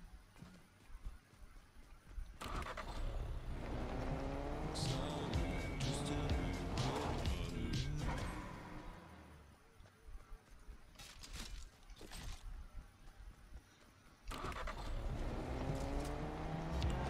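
A car driven in Fortnite, its engine note rising and falling in pitch over several seconds, loud and close, with brief quieter gaps and sharp transients.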